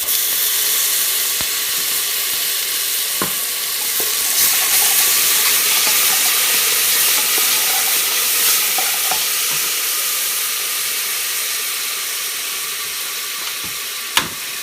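Ginger and garlic fry in a pan for a beef curry, giving a steady, close sizzle and hiss throughout with a few faint stirring clicks and no talk.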